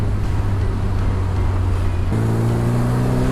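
A Westfield S2000 sports car engine drones steadily up close, its pitch stepping up partway through as it accelerates and pulls harder, with no voices.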